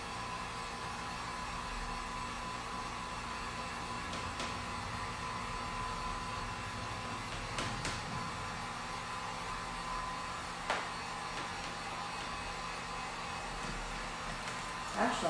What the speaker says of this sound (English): I'm going to hit this with the heat gun because we're going to do one more coat.